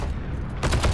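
Gunfire in an online multiplayer shooter game: a dense burst of shots begins partway through, loud and close, after a rumbling low background.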